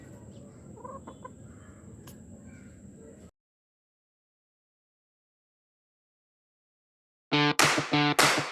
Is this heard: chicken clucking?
yes